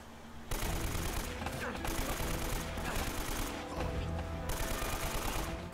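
Sustained gunfire from the Uncharted game near a plane wreck, a dense continuous barrage of rapid shots lasting nearly the whole stretch, with brief lulls between bursts, fairly quiet overall.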